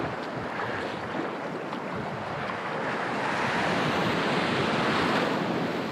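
Waveski paddled through breaking ocean surf, with a steady, loud roar of waves and wind buffeting the microphone throughout, no voices.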